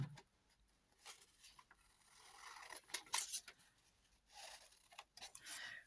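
Crisp snipping of scissors through paper in several short bursts, close by, with small rustles between cuts.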